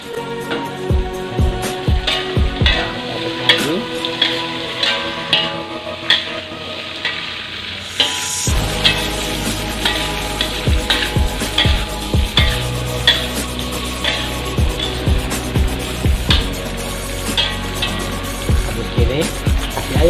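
Long beans tipped into a hot pan stir-fry with a rising sizzle, while a utensil scrapes and clicks against the metal in irregular strokes, near and fairly loud, with a voice briefly speaking over it.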